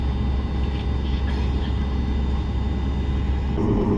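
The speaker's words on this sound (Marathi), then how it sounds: "प्लेन आता टेक ऑफ होतोय" A low, steady roar of aircraft engines builds throughout as a plane takes off on the runway, heavy rumble filling the cabin and swelling near the end.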